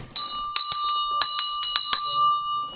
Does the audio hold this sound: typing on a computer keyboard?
no